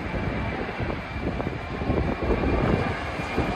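A jet airliner comes in to land at Itami airport at night, heard from Itami Sky Park beside the runway: a loud continuous engine roar and rumble that grows slightly stronger as it passes close overhead, with no voices.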